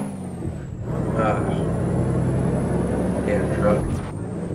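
A heavy truck in American Truck Simulator drones steadily, with a high whine running across the top and a brief hiss that could be the air brakes. The sound is loud and continuous, with no break.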